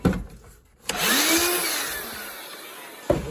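A Dewalt DCV517 cordless wet/dry vacuum, recently repaired for bad switch contacts, clicks on and spins up into a loud, steady whine with a falling tone, then shuts off with a clunk.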